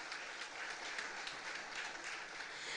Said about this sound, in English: Let us give a round of applause to our Honorable Prime Minister.